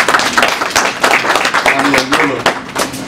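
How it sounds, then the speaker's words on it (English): Audience applause at the FAO chair election event in Columbus, Ohio, with bursts of clapping through the whole stretch mixed with a voice talking over it. "Ladies and gentlemen, please give him again one round of applause."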